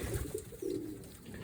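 Domestic pigeons coo at close range in a short, low, throaty phrase over a soft background murmur.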